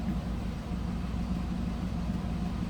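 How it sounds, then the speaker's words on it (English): A stock 1973 Chevrolet Nova engine idles smoothly and steadily, a low continuous rumble with no revving and a mild exhaust, heard close up. "Listen to that thing run."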